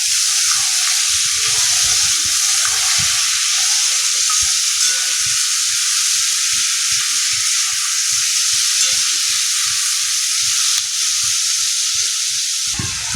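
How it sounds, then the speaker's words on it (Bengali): Potatoes sizzle steadily in a hot pan, a continuous bright hiss with soft scraping and stirring knocks underneath. "আমার আলু কিন্তু অর্ধেক ভাজা ভাজা হয়ে এসেছে"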